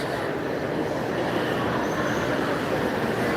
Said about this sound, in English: there's a train station underneath